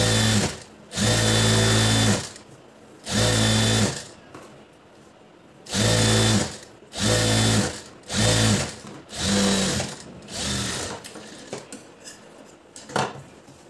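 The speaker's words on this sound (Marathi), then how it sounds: "आता याच्यावरून आपल्याला दाब टीप द्यायची आहे" A sewing machine topstitches along a blouse sleeve in several loud, close whirring runs. The runs stop and start with short pauses between them, and the later bursts are shorter and softer.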